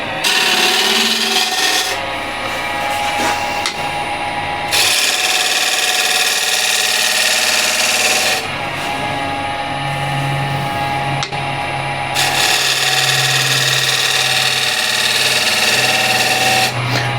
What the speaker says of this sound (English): So I'll do that real quick with the ball gouge from this side.